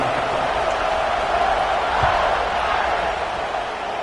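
A football stadium crowd cheers at kickoff in Colorado vs Notre Dame, a loud, dense, continuous roar of many voices heard from a distance.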